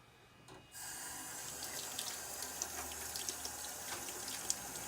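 Tap turned on to rinse something clean: after a moment of quiet, water starts gushing from the faucet and runs in a steady, close splashing stream with small drips and spatters.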